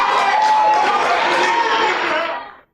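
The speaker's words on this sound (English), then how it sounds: "Those are real people applauding, not political hacks." A crowd at a political rally applauds and cheers in a dense, loud, continuous roar that fades away at the end.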